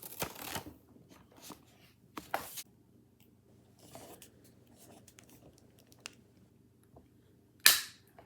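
Coaxial TV cable is cut with a tool during a socket installation, heard as a few scattered close snips and crunches followed by one sharp, loud snap near the end, with no talk.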